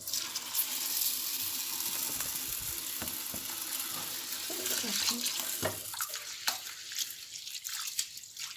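Red lentils and rice are washed under a running kitchen tap, with steady close water rush, grains sloshing and clattering in a container, and occasional sharper knocks near the end.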